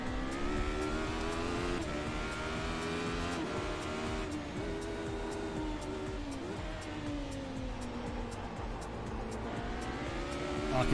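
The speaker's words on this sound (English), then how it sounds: "I can hear the car by me, Jared Hughes." A race car in the iRacing sim game roars past at close range, its engine droning steadily with gear-shift pitch sweeps and shifting tones throughout, loud and continuous with no talking.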